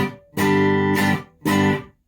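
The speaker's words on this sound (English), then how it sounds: "Clean amp sounds like this." A Telecaster electric guitar fitted with a P90 pickup plays through a clean amp with no reverb: three sustained, ringing notes or chords follow one another quickly, each stopping abruptly with no tail.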